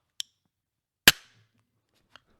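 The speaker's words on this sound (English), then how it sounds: "That is just a cannon going off in there." A cannon sound effect fires as one sharp, loud boom with a short decaying tail, bracketed by a couple of faint clicks in an otherwise quiet room.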